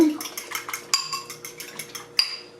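A fork scrapes and clinks against a bowl while mixing homemade pasta dough, a quick run of close, irregular metallic taps with a few sharper knocks, alone without talk.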